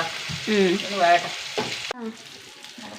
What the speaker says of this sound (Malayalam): വറുത്ത് വരട്ടെ